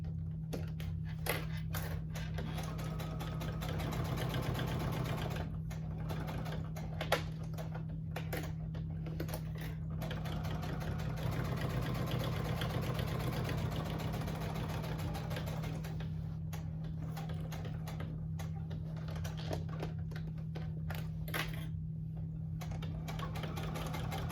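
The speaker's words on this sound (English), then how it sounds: "I'm just back stitching where the credit card slip is at" A domestic sewing machine back stitches a wallet's credit card slip pocket, a steady quiet mechanical whir with rapid needle ticking and a constant low hum, briefly pausing and restarting, no voices.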